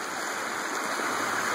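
A creek flows steadily past, a dense, even rushing of water that stays close and continuous with no voices over it.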